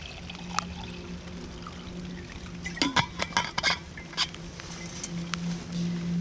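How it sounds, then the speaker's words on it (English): Water is poured into a glass jar packed with fresh Douglas fir needles, giving a soft trickle with a few sharp clinks and knocks of the jar in the middle, close and fairly quiet. "put them in there, and then you just want to fill it with water"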